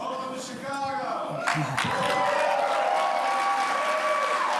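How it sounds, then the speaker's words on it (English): A standing ovation from a business audience for President Trump: dense applause and cheering that swells after a brief spoken moment and then holds loud and steady to the end. "Standing ovation."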